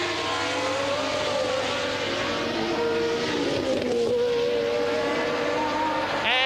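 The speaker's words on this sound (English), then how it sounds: "And again, just that suspicious little rumpling of the engine note as Jones..." A 1981 Formula 1 car at the German Grand Prix races past. Its high-revving engine note howls loud and continuous, sweeping in pitch as it goes by.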